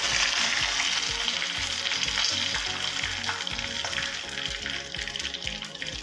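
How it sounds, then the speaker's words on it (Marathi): Mustard seeds, cumin and curry leaves crackle and sizzle in hot oil for a tempering, a dense, continuous close hiss with faint popping throughout. "तेल चांगलं गरम झालं, त्यामध्ये थोडी मोहरी, थोडे जिरे, कढीपत्त्याची पानं,"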